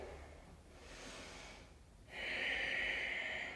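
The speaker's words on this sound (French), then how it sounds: "Prenez le temps ici de respirer" Slow, steady breathing during a morning yoga routine, a soft airy inhale followed by a longer, louder exhale, close and unhurried, with no speech.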